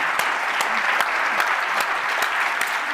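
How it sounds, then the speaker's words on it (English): An audience applauds after a startup presentation at a seed-stage pitch night, with dense, steady clapping from a large crowd and a few sharper claps standing out, sustained and fairly loud the whole time. "I want a huge applause for Michael for this presentation,"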